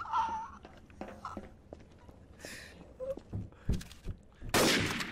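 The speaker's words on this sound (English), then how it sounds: "Alfredo, why are you shooting me?" Gunfire in Garry's Mod comes as scattered sharp shots, a few quick bursts near the end, mixed with footsteps and quiet game noise at low level.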